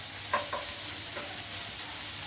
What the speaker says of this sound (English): give that a stir. Get it in the oil, get the sausage fat into it as well